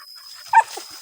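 A dog in a forest gives a single short, sharp bark, sounding fairly close against otherwise quiet surroundings.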